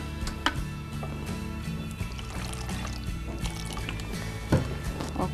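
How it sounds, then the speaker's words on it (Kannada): Rava onion dosa batter is mixed with water, giving soft wet squelches and sloshing splashes over a steady tonal background. "ಆ ಹಿಟ್ಟನ್ನ ಕಂಪ್ಲೀಟ್ ಆಗಿ ಕಲಸ್ಕೊಬೇಕಲ್ಲ, ಮಿಕ್ಸ್ ಮಾಡ್ಕೊಳ್ಬೇಕು. ಸ್ವಲ್ಪ ನೀರು ಬೇಕಾಗುತ್ತೆ,"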